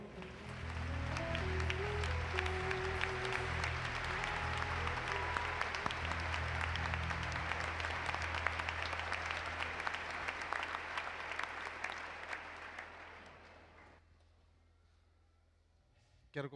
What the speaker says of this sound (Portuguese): Vamos aplaudir o nosso Senhor.